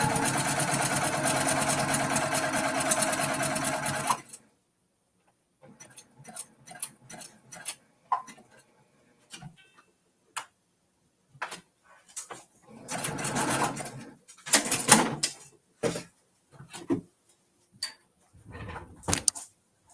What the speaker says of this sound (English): Right now, I'm just sewing it to the front.